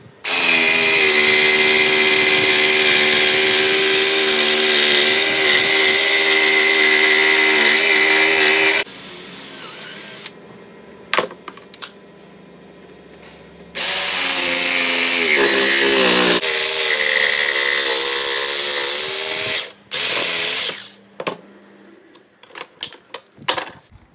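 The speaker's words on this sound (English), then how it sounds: "Just going to cut that out with me jigsaw." A jigsaw cuts a hole in a homemade cyclone dust collector, buzzing loud and steady for about nine seconds, pausing through a stretch of faint knocks, then running again for several seconds before stopping amid a few clunks.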